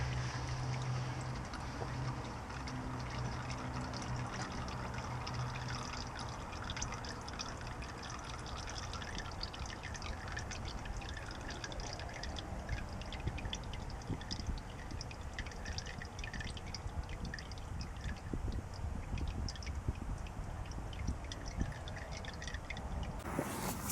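Used oil drains out of a 4BT engine during an oil change, a continuous soft trickling and dripping that runs steadily for the whole stretch at low level, without speech.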